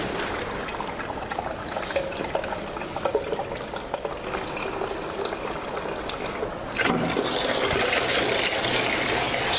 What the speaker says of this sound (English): we collect the water using the measuring cylinder and the stopwatch